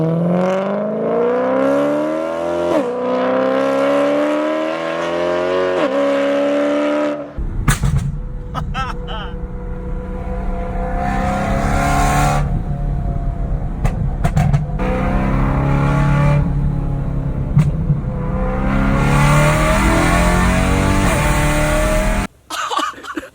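A BMW E90 M3 engine revs hard and roars, with sharp popping backfire bursts echoing through a canyon, loud and close, with a voice speaking briefly over it.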